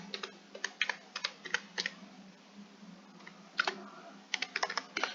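Computer keyboard being typed on up close, with irregular bursts of crisp keystroke clicks separated by short pauses, heard alone with no talking.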